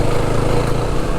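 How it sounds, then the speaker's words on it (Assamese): A motorbike engine running close and loud, sputtering and misfiring because it is low on fuel, with a steady rough roar for the whole moment. "তেলটো মিছ মাৰি আছে, তেল নাই"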